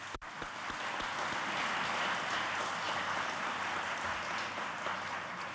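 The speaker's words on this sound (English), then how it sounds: "I want to give a special applause for them" An audience at a county Teacher of the Year ceremony gives a special round of applause for the club members who hosted the reception, a steady, full wash of clapping that holds at an even level throughout.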